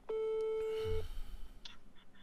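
A telephone tone sounds once during a recorded call to a lawyer: a steady, clear electronic tone lasting about a second, followed by quiet line noise.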